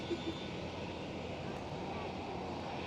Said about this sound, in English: there it goes, the Emirates 777 freighter